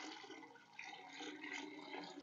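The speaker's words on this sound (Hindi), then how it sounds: "अब मैं मजीद पानी डालूंगी।" Water poured into a jar of homemade watery turnip pickle, a steady, close splashing and gurgling stream that runs continuously with no talk over it.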